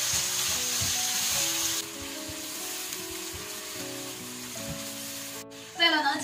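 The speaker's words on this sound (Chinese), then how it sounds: "把我们这个羊肚、羊肺子、羊肠子这些给它倒进锅里炒一下" Lamb tripe, lung and intestines sizzle and fry in a hot wok with chopped scallion, ginger, garlic, Sichuan pepper powder and chili, a steady close hiss with stirring scrapes and a brief clatter near the end.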